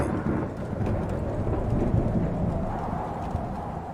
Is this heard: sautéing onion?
no